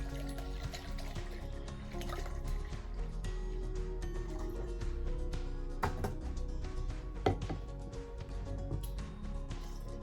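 Wine, a 750 ml bottle's worth, pours into a sangria pitcher for a piña colada punch, making a steady, faint liquid trickle and splash with a few sharper drips, and no talk over it.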